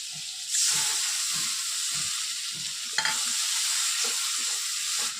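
Tomato paste hits hot oil in a frying pan for a vegetarian potato and pointed gourd dhokar dalna, setting off a sudden loud sizzle that settles into a steady close hiss, with one brief crackling flare midway.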